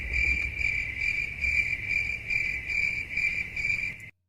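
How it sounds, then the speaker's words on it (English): Crickets chirp in steady, evenly spaced pulses of high trilling, about eight bursts in a row, moderately loud over a low background murmur before cutting off abruptly. "You wanted to hear the crickets?"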